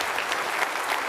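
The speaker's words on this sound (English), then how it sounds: "let's give a round of applause for Daniel." Audience applause at a cybersecurity conference talk on PowerShell, a steady wash of many hands clapping, fairly close and sustained with no voices over it.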